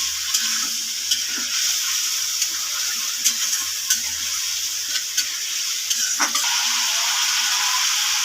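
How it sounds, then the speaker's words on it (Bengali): Spiced masala fries and sizzles steadily in a pan while being stirred, a constant hissing crackle close by. Soft scrapes and taps of the stirring spoon sound at intervals over the hiss. "এবার নেড়ে চেড়ে একটু কষিয়ে নেবো।"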